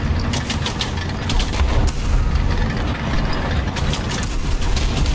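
Heavy bombs and gunfire battering a Churchill Mk. VII tank in War Thunder, a loud continuous rumble of explosions with sharp cracking bursts over a droning engine.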